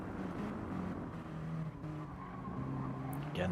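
Mini Cooper race cars in a racing game, engines droning close with tire squeal and skidding as soft tyres struggle for grip, steady and continuous throughout.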